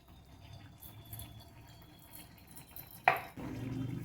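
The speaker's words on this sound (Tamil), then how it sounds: "அடுப்பில் ஒரு வடைச்சட்டி வச்சு தேங்காய் எண்ணெய் ஊற்றிக்கலாம்." Coconut oil poured into a kadai sitting on the stove makes a brief faint trickle, followed by a soft steady sizzle under low kitchen background noise.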